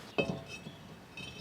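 A new brake rotor is fitted onto the wheel hub of a 2003 Toyota Camry 2.4L, making one sharp metallic clink followed by a faint rattle in a quiet garage.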